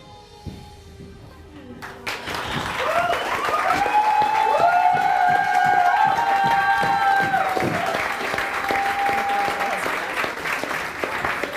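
An audience breaks into applause at an evening gathering, swelling from sparse claps into sustained, loud clapping, with a tonal musical swell running underneath.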